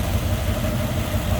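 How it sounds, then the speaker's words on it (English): A 1957 Ford Fairlane 500 with a swapped engine idles smoothly and steadily, a close, even low rumble with no voices. "Nice smooth running engine."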